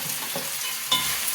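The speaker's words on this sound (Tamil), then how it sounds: "ஸோ இந்த டைமில் கொஞ்சம் உப்பும் சேர்த்து வதக்கிடலாம்." Potato and drumstick pieces are sautéed with salt in a pan for sambar, a short burst of sizzling with the scrape of stirring and a louder clatter near the end, no one speaking.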